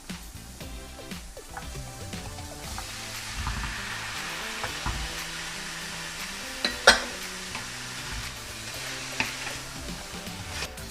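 Onion and pork fry in a pan with a steady sizzle, stirred now and then, with a few sharp clinks of a utensil against the pan.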